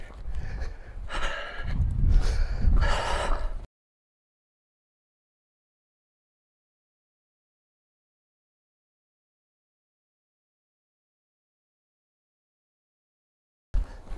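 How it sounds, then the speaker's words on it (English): Heavy, rapid breathing close to the microphone for a few seconds, then a long silence with a brief breathy burst at the very end. "I'm still panting because of the pace."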